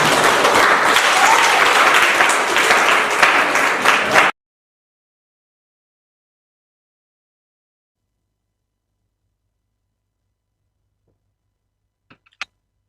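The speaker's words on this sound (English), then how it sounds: "let's give a round of applause to Mutenda High School." A high school group gets a burst of audience applause lasting about four seconds, dense clapping from a crowd that cuts off abruptly into silence, with a couple of faint clicks near the end.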